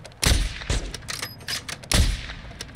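Bursts of gunfire in Call of Duty DMZ: several loud, sharp volleys of rapid shots separated by short pauses, up close, with no talking over them.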